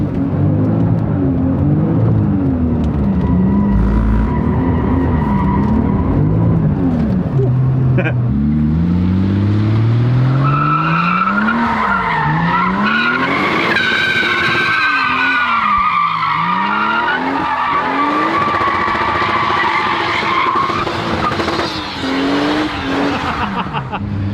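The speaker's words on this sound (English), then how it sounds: "Yeah, that thing is one tire firing like crazy." A 2JZ-GTE-swapped Lexus GS300 spins one rear tire. A long, loud tire squeal runs over the engine's revving howl, and the pitch sweeps up and down as the car swings around. A voice talks over it.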